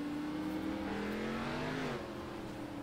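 A race car engine in the iRacing sim, an ARCA stock car at Twin Ring Motegi, revs loudly and steadily, its pitch climbing and then dropping near the end, with no voices over it.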